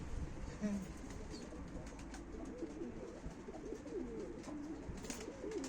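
Pigeons coo repeatedly in a low, rolling rhythm at moderate distance, set against steady background noise, with faint voices now and then.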